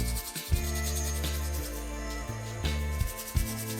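A toothbrush scrubs tarnished sterling silver jewelry in short, close rubbing strokes, a steady scratchy friction sound with small bumps as the brush shifts.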